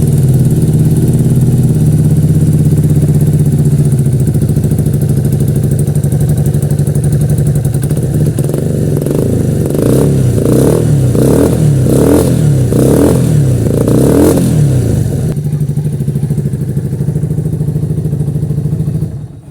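A motorcycle engine idles close by, then revs repeatedly in rhythmic bursts before settling and cutting off at the end.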